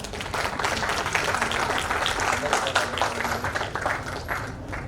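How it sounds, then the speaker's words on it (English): An academic session audience gives a round of applause to welcome the chair onto the stage, dense sustained clapping from many hands filling the room at a steady level throughout. "We would like to welcome the chair on the stage now with a round of applause."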